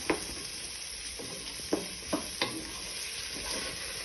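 A pinch of cumin frying in a pan for prawn jambalaya, stirred now and then: a steady, faint sizzle with a few soft scrapes of the spoon, and no one talking.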